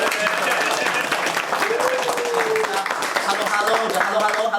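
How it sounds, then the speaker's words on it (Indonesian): A group claps in applause for a tour guide at a gathering during a Seoul ski trip, a steady dense patter lasting throughout with voices talking and calling out over it. "Ya, tepuk tangan dong buat Pak"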